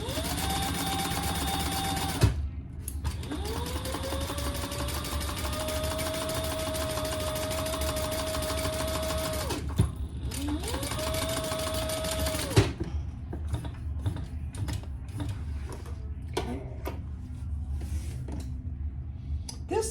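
Sewing machine top stitching a Horizon Sling bag with a 1/4 inch seam allowance, running in steady whirring bursts of several seconds with brief pauses between them, followed by quieter handling clicks and fabric rustle.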